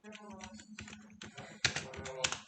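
Quick clicks and taps come in small bursts, as from a keyboard, mixed with people talking over them.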